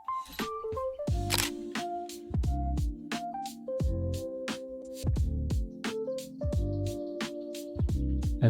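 Repeated sharp camera shutter clicks from street photography at Bluewaters, Dubai, firing in a quick, steady series over a layer of tonal, melodic music.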